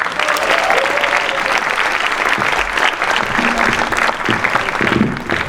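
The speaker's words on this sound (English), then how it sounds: "so big round of applause for them" Audience applause at a 25th anniversary celebration for a devotional group, sustained dense clapping filling the hall steadily throughout, with a few faint voices and cheers mixed in.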